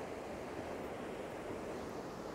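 Water rushes down mountain cascades after heavy rain and snow, a steady broadband roar heard from a distance with no voices over it.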